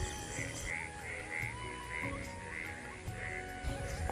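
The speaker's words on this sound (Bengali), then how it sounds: "আর এই দেখো ব্যাঙগুলোই কেমন ডাকছে" Frogs croak from a rain-soaked village field on an island, their calls repeating in loose, overlapping bursts at moderate distance over a steady outdoor background.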